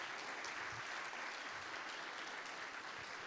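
A congregation at a church Sunday school Christmas celebration gives a round of applause: an even, unbroken wash of clapping hands, fairly soft and distant, holding steady from start to finish.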